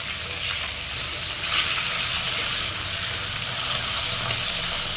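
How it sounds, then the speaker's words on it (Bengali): Hilsa fish heads frying in hot oil give a loud, steady, close sizzle with a dense crackling hiss throughout, and turning or stirring noises mix in. "মাছের মাথাগুলো একটু কড়া করে ভেজে নিতে হবে যাতে গন্ধটা চলে যায়।"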